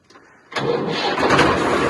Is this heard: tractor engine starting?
yes